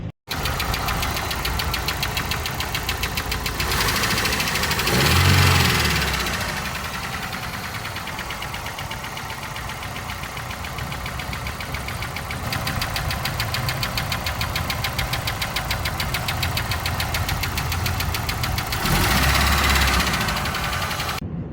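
A Daewoo Lanos car engine runs with a fault, giving a steady, loud mechanical knocking rhythm over a continuous idle drone, with a couple of heavier thumps along the way and no talk.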